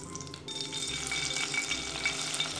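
Cooking oil heats in a pan over a stove flame, giving a soft, steady sizzling hiss close by, with faint clinks and no talking.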